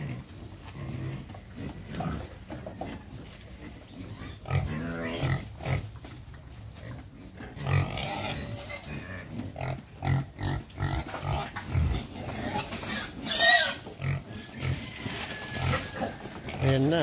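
Pigs of a mestiza native breed wait to be fed on a farm, grunting and squealing near and far in irregular bursts while a person talks over them.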